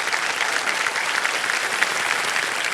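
Studio audience applauding a pair of contestants on the quiz show Kaun Banega Crorepati, a steady, dense wash of clapping that holds at even loudness from start to finish.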